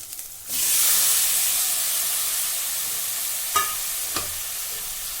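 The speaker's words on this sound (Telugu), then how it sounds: "వెల్లుల్లి పేస్ట్ ఫ్రై అవ్వగానే కొద్దిగా పసుపు వేసుకోవాలి చేసి పెట్టుకున్న టమాటా ముక్కలు వేసుకోండి" Tomato pieces hit a hot pan of frying garlic paste and turmeric with a sudden loud sizzle that settles into a steady steamy hiss, broken by a couple of faint stirring clicks near the end.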